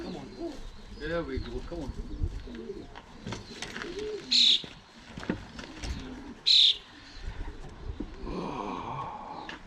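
A blue racing pigeon cock is handled up close, with soft coos and wing or body rustles, two sharp bright squeaks and someone talking over most of it.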